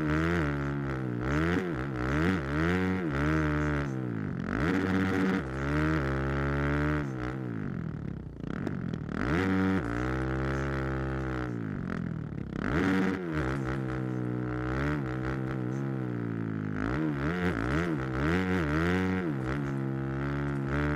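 A simulated motorbike engine in the TRACKDAYR riding game revs hard under heavy throttle as the bike spins out, a loud continuous whine whose pitch rises and falls in sweeping waves with no talk over it.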